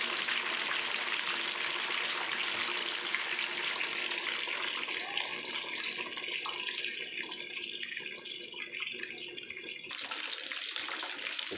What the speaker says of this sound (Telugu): వేసాము నూనెలో, ఉడుకుతూ ఉంది.